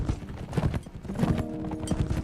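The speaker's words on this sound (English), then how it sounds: "Press W to spur the horse onward, and S to rein him in." Galloping horse hooves in the video game Mount&Blade With Fire and Sword, a fast, steady clip-clop pounding close and loud throughout, with a faint tonal game sound partway through.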